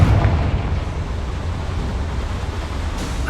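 A Confringo fire spell in Hogwarts Legacy bursts into a loud, rumbling explosion that roars continuously and slowly settles, with no talk over it.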